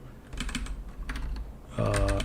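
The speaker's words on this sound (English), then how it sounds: "I'm typing" Fingers type on a computer keyboard during a live coding session, the keys clattering close up in quick irregular bursts with brief pauses between runs.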